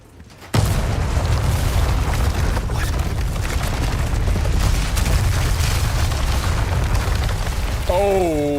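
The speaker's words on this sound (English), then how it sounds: "the way that the explosion will take place" A tower explodes in the Resident Evil 4 Remake video game: a sudden loud boom gives way to a sustained, roaring rumble of debris, and a voice enters near the end.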